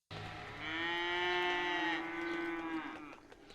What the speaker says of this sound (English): Why do we hear cows mooing in the background when we don't see any cows?